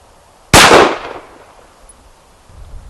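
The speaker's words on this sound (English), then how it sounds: "it's my turn to shoot the Beretta PX4" A single sharp gunshot from a Beretta PX4 pistol cracks loudly up close and rings off into a decaying tail, with quiet background before and after.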